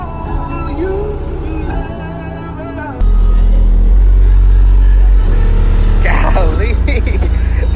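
At a car show, a car engine revs hard, its loud, deep roar climbing and then holding, while excited voices talk over it.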